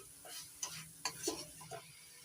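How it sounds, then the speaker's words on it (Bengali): A spoon scrapes and stirs a thick, sticky palm pudding filling with cardamom powder in a pan, giving a few light, irregular clicks and scrapes, close and fairly quiet, with no talk. "এলাচির গুঁড়ো দিয়ে একটু নাড়াচাড়া করে নিচ্ছি"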